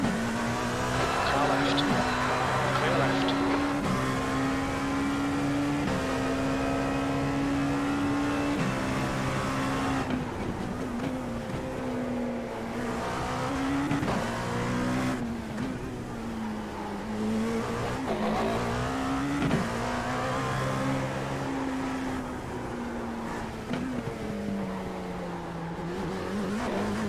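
Dallara P217 prototype race cars in iRacing at an IMSA round on the Belle Isle street circuit, engines droning loudly and continuously with shifting pitch as cars fight for position, a spotter's voice calling traffic over the top.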